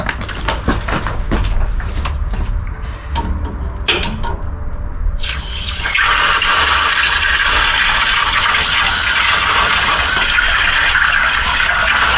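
A small low outdoor tap at a stopover on a long cycling stage, opened partway through: water bursts out into a loud, steady broadband gush that runs without a break to the end, following a few scattered knocks and handling clatters.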